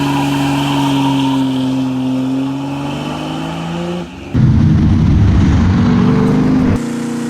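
A Holden high-performance 179 engine from the early 1960s, a Bathurst racing unit, drones with a steady note that slides in pitch, then bursts into a louder, rougher roar about midway.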